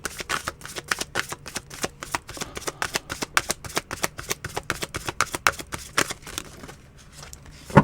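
Tarot cards are shuffled in a rapid run of crisp riffling slaps, close and distinct, pausing briefly near the end before a final tap.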